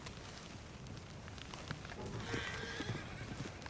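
A horse whinnies in Red Dead Redemption 2, with clip-clop hoof sounds and ambient game noise running steadily underneath, moderately close.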